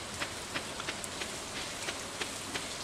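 Rain in the Stardew Valley video game, a steady hiss of falling drops with a light patter and soft ticks recurring at regular intervals, alone without talk.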